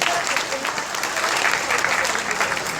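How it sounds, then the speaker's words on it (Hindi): An audience at a Hindi-language speech event breaks into vigorous clapping, a thick, loud, continuous burst of applause lasting about three seconds, with a trace of crowd noise beneath. "जोरदार ताली बजाइए"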